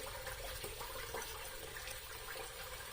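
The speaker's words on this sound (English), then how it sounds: "let's wash off a little bit" Water splashes close by as a freshly shaved face is rinsed after a pass with a Fine DE5 safety razor, a steady continuous wash of running and splashing water with no talk.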